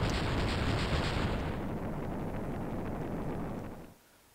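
An explosion from a magic ball planted against a wall in Dragon Quest III on the 3DS: a loud, sustained broadband roar that rumbles for several seconds and then cuts off abruptly into quiet.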